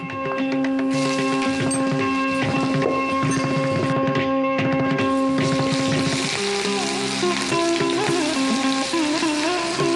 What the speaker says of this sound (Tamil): எண்ணெய் காஞ்சிடுச்சு. இப்போது பட்டை, கிராம்பு, ஏலக்காய், அதுக்கப்புறம் இஞ்சி பூண்டு விழுது